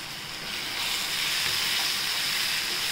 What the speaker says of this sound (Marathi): आता आपण हा मसाल्याला छान पेस्टपर्यंत परतून घेऊया